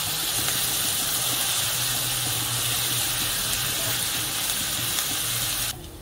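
Onions sizzle and fry in a pan for crab masala, a loud continuous crackling hiss with a faint low hum beneath, easing slightly at the very end.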